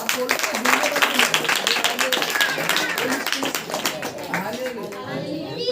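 Congregation clapping at a Hindi-language Christian church power meeting, a dense patter of many hands sustained throughout amid crowd noise, with a preacher's voice carrying over it.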